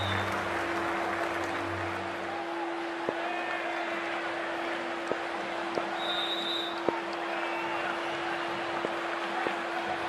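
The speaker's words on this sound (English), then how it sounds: "and already the crowd is up and about" A stadium crowd in the Cricket 24 video game, at an IPL match between DC and CSK, roars and claps in a dense, steady wash of noise, with sharp clicks and a faint whistle rising through it.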